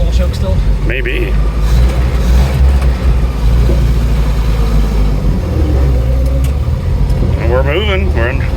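A 1997 Honda Civic coupe engine runs steadily with the choke partly on, a loud continuous low rumble as the car begins to move, with people talking over it throughout.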